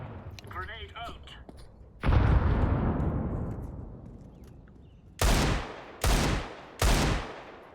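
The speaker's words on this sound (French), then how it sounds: "Grenade out." A Counter-Strike grenade goes off in a game as one loud, close boom with a long rumbling decay, followed by three short, heavy bursts of gunfire, with faint voice-like sounds before the blast.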